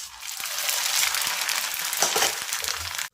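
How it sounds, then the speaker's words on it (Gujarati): Corn poha flakes frying in hot oil for a spiced puffed-rice snack, giving a steady, close bubbling hiss with crackly texture for about three seconds, no talking. "હવે તળી અને તૈયાર કરેલા પૌવાને આપણે મમરામાં એડ કરી દઈએ અને એ રીતે બાકી વધેલા પૌવાને પણ તળી લઈએ।"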